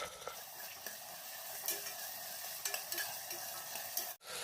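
Two chopped tomatoes fry and get stirred in a pan for idli sambar, a steady close sizzle broken by several scraping stirs and clinks, ending with a brief sharp knock.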